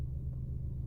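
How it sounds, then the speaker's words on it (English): A parked car's engine idles to charge a phone, giving a brief, close, steady low rumble with nothing else heard over it. "car to charge my phone"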